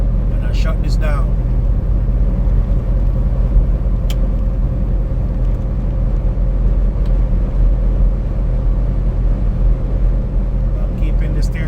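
A truck cruising on a Nebraska highway near Lincoln, a loud continuous low engine and road rumble filling the cab, with a few faint clicks and rattles on top.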